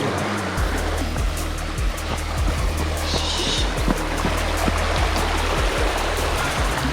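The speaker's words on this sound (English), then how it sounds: "Right, the river's up today." A high-running river rushes in a steady, loud broadband roar, a continuous wash of flowing water with no voices over it.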